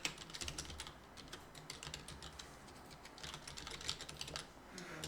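Someone types a folder name on a computer keyboard, a quick run of soft close key clicks in an irregular rhythm, heard alone at low volume.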